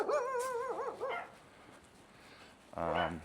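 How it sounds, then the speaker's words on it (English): Countryside dogs in rural northern Vietnam bark in loud yelping bursts at the start, fall quiet, then a second dog lets out a strong bark near the end, close by. "Countryside dogs."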